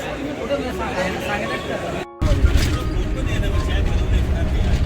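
Busy crowd chatter at a crowded roadside restaurant during election time, overlapping voices mixed with passing traffic noise, briefly cut off by a short gap before the hubbub resumes louder.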